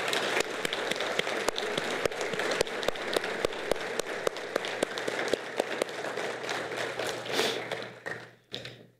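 Applause breaks out in a general assembly hall in tribute to a departing leader's management, a fairly distant crowd clapping steadily for about seven seconds with a few sharp near claps standing out before it thins and dies away.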